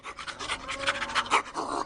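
A dog panting rapidly and steadily at close range, quick rhythmic breathy huffs throughout with no other sounds.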